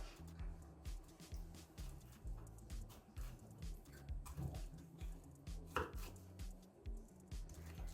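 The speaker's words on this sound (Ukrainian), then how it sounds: "І зараз нарізаємо їх соломкою." A knife chops fried zucchini pancakes into thin strips on a board, rapid steady taps in a close, quiet kitchen, with a low humming background throughout.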